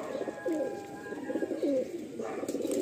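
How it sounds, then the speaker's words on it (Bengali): Malwai pigeons from Punjab coo in repeated soft throaty phrases, close and fairly clear, with a few faint chirps and light background noise. "মালবাহী পায়রা প্রত্যেকটাই আমার খুব সুন্দর লাগলো"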